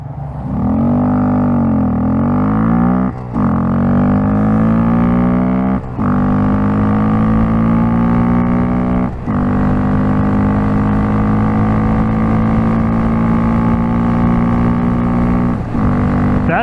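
A Honda Grom motorcycle engine winds up hard from a launch, loud and close, its droning pitch climbing in long pulls broken by brief dips at each gear shift.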